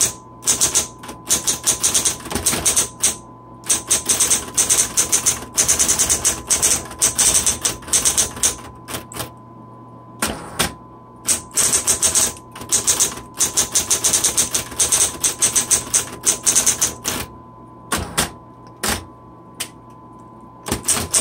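A 1970s Smith Corona Electra 210 electric typewriter typing steadily: dense, rapid mechanical key strikes in bursts with brief pauses, under a constant motor hum, close and loud, with no voices.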